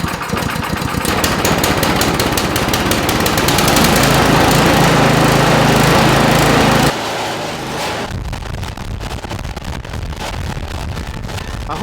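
A Toro Power Max HD 828 OAE snow blower engine runs loud and steady after starting, its motor drone rising and holding, then dropping to a lower, quieter idle near the end.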